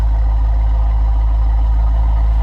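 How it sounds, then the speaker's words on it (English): A 2002 Chevrolet Corvette engine idles steadily with a deep, throaty exhaust rumble, loud and close, pulsing evenly without revving. "you got a little bit throatier exhaust in stock, little rumble to it, nothing too crazy"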